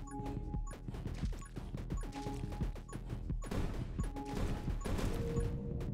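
Splinter grenade launcher exploders detonating in a video game, a dense barrage of sharp crashing blasts and thuds firing in rapid succession throughout, loud and continuous with overlapping game effects and no pause.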